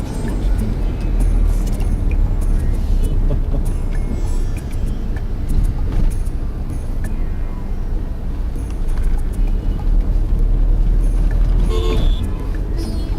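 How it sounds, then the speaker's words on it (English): Dense road traffic near Delhi, India makes a loud, continuous roar of engines and tyres, with short car horn toots breaking through now and then, and faint voices in the mix. "Traffic is getting dense again."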